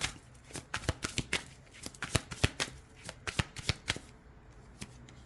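Inner Star oracle cards being drawn and handled, a string of crisp, close card flicks and slaps in an irregular rhythm that thins out toward the end.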